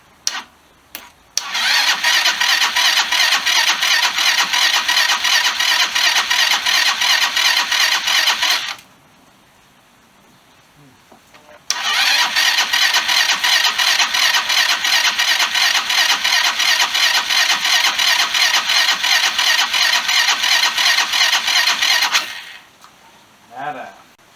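A rebuilt Chinese GY6 scooter engine cranks and catches, running loud and steady in two long bursts separated by a brief quiet pause, with short sputters at the start and end.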